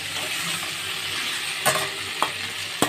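Egg curry is stirred in a hot pan, giving a steady soft sizzle with a few sharp scrapes of the spoon against the metal near the end.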